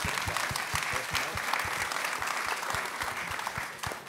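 A small audience at a theatre play briefing applauds steadily for about four seconds, a dense patter of claps with individual hand hits standing out near the front.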